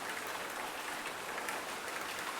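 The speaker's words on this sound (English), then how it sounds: "Soon torrents of water are pelting the ground." Heavy rain in the video game Butterfly Soup 2 forms a dense, steady hiss of pouring water, even and unbroken, with no voices.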